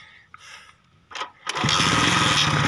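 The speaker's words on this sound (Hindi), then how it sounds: "बाइक मिसिंग कर रहा है, लेकिन बाइक स्टार्ट है अभी।" A misfiring motorcycle engine: a few faint puffs and sputters give way to a loud, close engine that catches and runs with a rough, uneven chugging.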